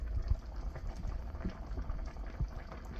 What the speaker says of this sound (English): bubbling.